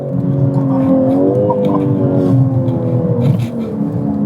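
BMW M3 G80 Competition accelerating hard in manual mode, heard loud from inside the car as the engine note climbs steadily through a strong rising pitch, with a brief dip at a gear change.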